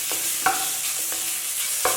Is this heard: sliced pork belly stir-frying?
yes